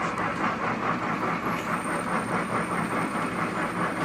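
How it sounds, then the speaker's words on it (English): A milling machine at its slowest speed of 316 RPM drives an 8mm reamer through a hole, a close, steady mechanical churn with an even pulsing rhythm and no talk. "Slowest speed I've got on this mill, 316 RPM"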